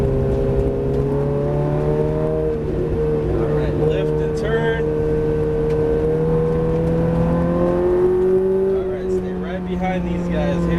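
A Ferrari F430 drives on a racetrack, its engine droning loudly and steadily from inside the car, pitch rising as it accelerates, while a driving instructor talks over the engine noise.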